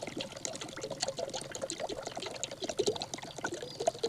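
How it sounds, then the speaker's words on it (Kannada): Cooking oil poured steadily from a container while mixing a liver tonic for sheep, a continuous liquid trickle and splash held close and fairly loud for several seconds, with no talk. "ಎಣ್ಣೆ ಹಾಕ್ಯನಕ್ಕೆ ಕುಂತೀವಿ ನಾವು"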